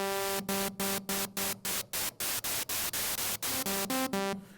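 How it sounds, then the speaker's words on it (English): Nord Lead A1 synthesizer white noise hisses in rapid gated bursts, mixed with a buzzing oscillator tone that fades in and out, about a dozen choppy pulses. "Here's combining noise with the oscillator. This is a white noise."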